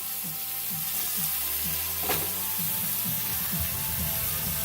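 Steady, loud sizzling of sirloin steak searing in a hot pan, with faint scraping and rhythmic stirring sounds underneath.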